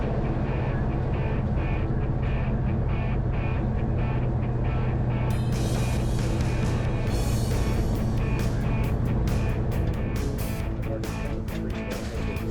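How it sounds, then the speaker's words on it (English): A 1955 Plymouth drives steadily on a 48-minute road trip in Texas, with a loud continuous engine drone and road rumble that brightens with wind and tire noise partway through. "I'm gonna make a little trip in the 55 Plymouth to Brown Auto Salvage in Sunset, Texas"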